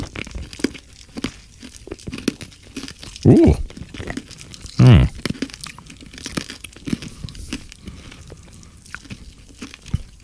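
Sweets from a packet are crunched up close, with a few sharp crunching bursts standing out over crinkling and rustling, and a short vocal exclamation in between.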